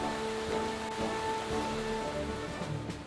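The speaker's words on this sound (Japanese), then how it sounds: "雨が降っております。" Steady rain falls in the Motorsport Manager racing game at the Munich round, a continuous close patter of drops over a faint tonal hum, with no talking.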